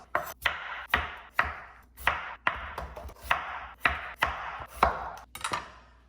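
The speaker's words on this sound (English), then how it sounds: "Now that I've peeled my potatoes, I'm going to chop them into quarter-sized chunks" Knife chopping peeled potatoes into chunks on a cutting board, about ten firm, evenly spaced thuds, each trailed by a short scrape, close and distinct with no talk.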